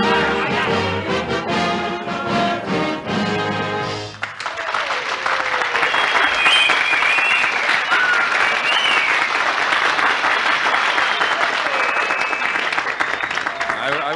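A studio audience on a comedy talk show bursts into loud applause after a joke. The clapping swells into a dense, sustained roar that follows a short stretch of music and a voice.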